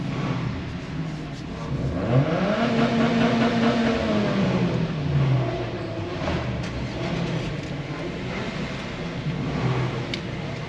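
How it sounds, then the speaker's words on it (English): Car engines revving among a group of cars about to set off on a road run, with a clear rising and falling engine note swelling over a steady mechanical rumble and background crowd noise. "Some excitable people revving their engines."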